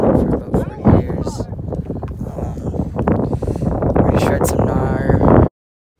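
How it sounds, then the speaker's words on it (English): Heavy wind buffeting the microphone, a constant loud rumble and roar throughout that drowns out other sound before cutting off abruptly. "This one has no sound because it's super windy."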